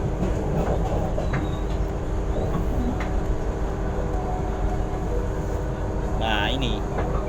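KA Jenggala passenger train running from Sidoarjo to Gresik, a steady loud rumble and rattle with faint clickety-clack heard from inside the carriage, and a person talking over it.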